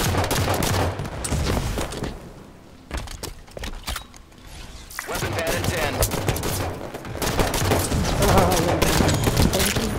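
Rapid bursts of gunfire from the Halo 5 video game, dense and loud for most of the stretch with a brief lull near the middle, mixed with other game effects and some speech.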